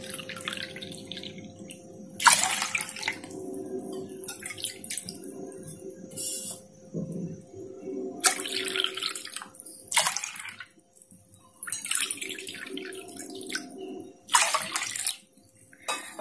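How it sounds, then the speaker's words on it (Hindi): Water is poured by the bowlful into a container of rice flour in a kitchen, several separate splashing pours of a few seconds each, with quieter trickling and drips between them. "तो ये देखिए, मैंने 3 कटोरी पानी इसमें ऐड कर लिया है।"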